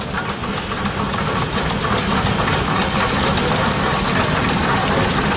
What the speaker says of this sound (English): It looks like this might be our last steam engine coming through here next.